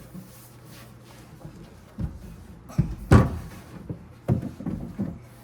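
A door is fitted into place with a few quiet clunks and knocks spread over the moment, set against a low steady background hum.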